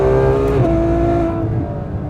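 A Ferrari F12's front-mounted engine howls at full throttle in third gear, loud and close, the pitch climbing steadily before easing off near the end.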